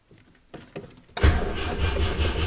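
A GAZ-21 Volga car engine starts on a cold winter day. A few faint clicks and a brief crank come first, then the engine catches abruptly and settles into a loud, steady idle close to the microphone.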